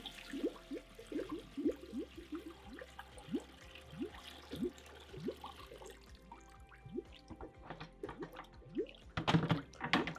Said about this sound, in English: Pour sanitizer into machine.